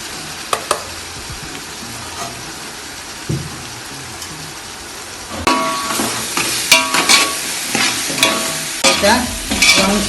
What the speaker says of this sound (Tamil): ப்ரௌன் ஷேடு ப்ரௌன் கலர் ஆகிற வரைக்கும் வதக்கணும்